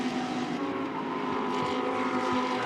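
Lamborghini Super Trofeo race cars corner at the Shanghai circuit, a steady loud engine drone with layered exhaust tones holding through the bend, no voices.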